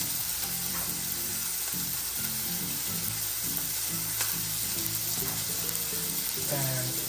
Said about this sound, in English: now the pan is nice and hot, so we're gonna go ahead and take all the beef and throw it in the pot